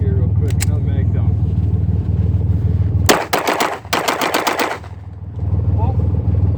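A Bersa TPR9 9mm pistol fires a quick string of shots, a dense burst of about a dozen rapid cracks over roughly a second and a half, set against steady outdoor rumble and brief talk.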